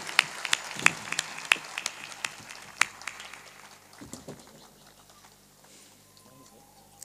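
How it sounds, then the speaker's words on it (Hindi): An audience applauds, scattered claps fading into a quieter room after a few seconds, with no talking. "आइए सब लोग ताली बजाकर उनका अभिनंदन"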